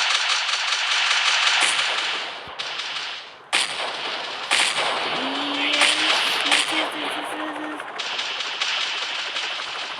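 Rapid machine-gun fire with heavy bomb blasts rings out in the Vice Town video game, loud and nearly continuous, with a sharp explosive burst midway and a rising whine in the middle.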